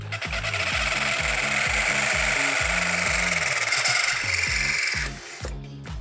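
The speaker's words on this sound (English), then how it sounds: "I need like a 1 3/4 hole saw." Power drill at high speed whirring with a gritty cutting noise as a 1 3/4 inch hole saw chews through material, steady and close, slowing near the end.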